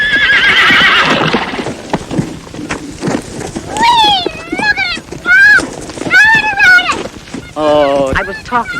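A horse neighs and whinnies several times in a drawn-out, wavering way, with hooves clip-clopping underneath; people talk around it in an outdoor scene.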